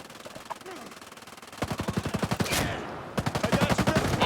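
Gunfire in the video game Ghost Recon Breakpoint: a quieter stretch, then rapid bursts of automatic shots in a fast, even rhythm, loud and close, with a brief louder blast in the middle and faint voices in the background.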